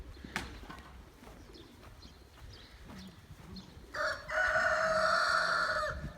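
A rooster crows loudly near the end, a long sustained call after quieter scattered bird sounds and faint clucking.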